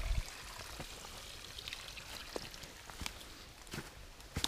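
Water pouring through a flume on a rural property, a quiet continuous trickling pour with scattered small splashes and drips, no talking.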